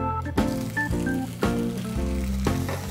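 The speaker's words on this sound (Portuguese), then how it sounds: "Frigideira aquecida. Vamos dourar nosso bife." Filet mignon sears in a hot non-Teflon frying pan, giving a loud, close, continuous sizzle, with sharp crackling bursts every second or so.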